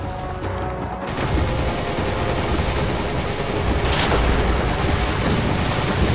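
Gunfire while shooting an enemy in Resident Evil 5 rattles in a dense, continuous barrage, loud and close, mixed with heavy noisy game effects throughout.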